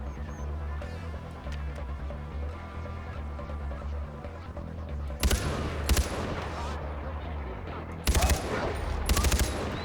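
Gunfire from the video game Far Cry 4: rapid automatic bursts crack out around the midpoint and again near the end, loud over a steady rumbling game-music bed.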